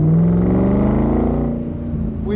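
A Factory Five Shelby Cobra replica's engine revs through side pipes, a loud rumbling drone rising in pitch and then easing back down toward idle.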